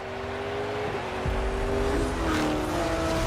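A Cadillac V-Series.R and a Corvette E-Ray racing in video game footage, with a loud, sustained engine roar and rising revs as the cars accelerate, heard close and continuous.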